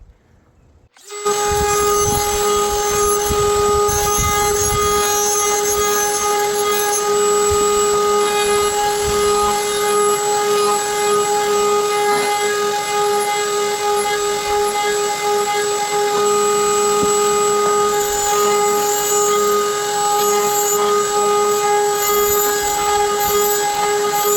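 A coarse powered bit grinds the lip of an old glass bottle, a loud, steady high-pitched whine that starts abruptly and holds unbroken for the whole stretch.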